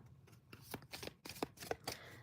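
Cards riffled and shuffled in a few quick bursts of crisp flapping, close up, with soft handling sounds between.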